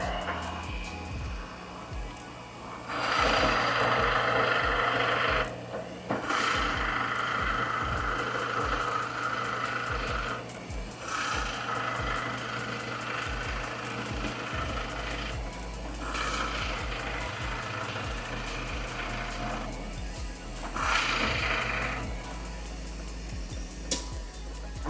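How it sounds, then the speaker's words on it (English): A drill press bores into wood with a large Forstner bit, a loud close rasping, grinding whir that runs in long sustained stretches with brief pauses between passes, over a steady motor hum. "Kind of going a little faster than I ought to for that big of a Forstner bit"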